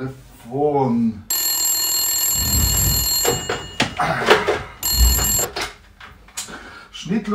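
A telephone rings loudly in a room with a sustained electronic bell tone, sounding in two bursts, while people talk and exclaim over it.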